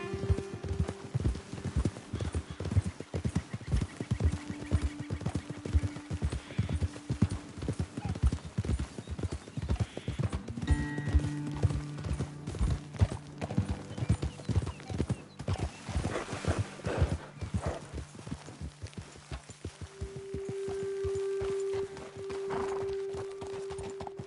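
Horses' hooves clip-clop steadily on the ground in the video game Red Dead Redemption 2, a close rhythmic pattern with occasional whinnies and a rider's voice speaking briefly.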